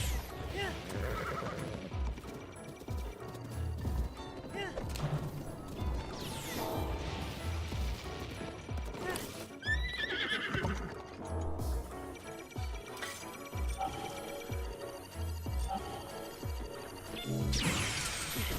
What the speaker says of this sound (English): As long as I don't summon my horse and then my horse decides to stop.